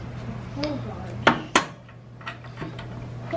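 Two sharp metallic whacks close together, like a rubber mallet striking the wheel axle of a 1972 Honda CT70, stand out over a steady low hum, followed by a few fainter knocks and clinks.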